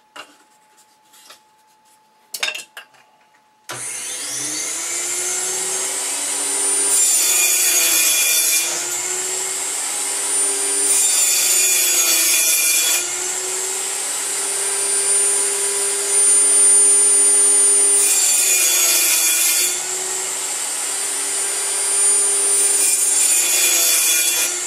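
Motorized saw cutting pieces off a sheet of 1/8 inch basswood, a sustained buzzing whine that swells and eases as the blade bites, loud and close after a few brief knocks.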